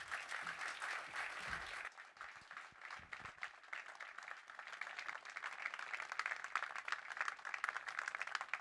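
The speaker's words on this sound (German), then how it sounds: "Herzlichen Applaus bitte für Robert Habeck und Monika Heinold" Audience applause at an outdoor election campaign kickoff rally, sustained dense clapping from a crowd lasting several seconds, fairly distant and even.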